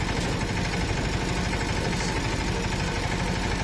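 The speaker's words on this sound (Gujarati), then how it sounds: "પપ્પા પાસેથી ટ્રેક્ટર લઈને આપણે ચલાવી લીધું ટ્રેક્ટર." Tractor engine running steadily while being driven on a village road, a continuous close rumbling drone with a rough, vibrating low end throughout, no talking.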